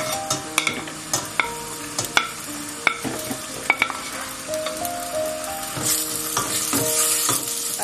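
Chopped onions fry in a pan with a steady sizzle, while a utensil stirs them in sharp, irregular scrapes and taps close by; the sizzle grows louder toward the end, no talk.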